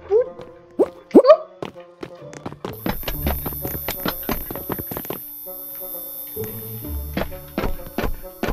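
Character jump sounds from a Roblox obby game, with a couple of short bouncy, pitch-sliding plops near the start, followed by busy game music and effects.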